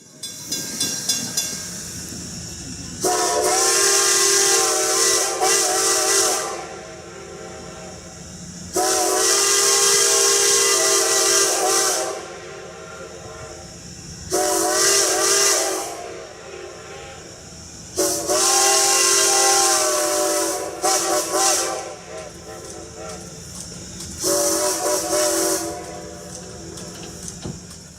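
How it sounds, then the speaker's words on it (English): A steam locomotive whistle on the Strasburg Rail Road sounds five long, loud chord-like blasts for a crossing, echoing off the valley, with a constant hiss and rumble underneath. "number 90 whistles for the crossing"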